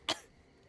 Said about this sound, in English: A weird cough.